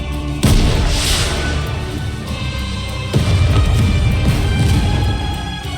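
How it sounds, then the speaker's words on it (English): A rocket launcher shell explodes over a snowfield in the Nikke video game, two loud, heavy booming blasts about three seconds apart, each rolling into a long rumbling tail. "a shell flies from the rocket launcher. And a resounding explosion causes the entire snowfield to be blanketed in thick plumes of white smoke"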